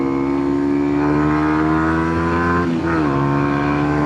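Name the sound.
Kawasaki Ninja 125 motorcycle accelerating toward top speed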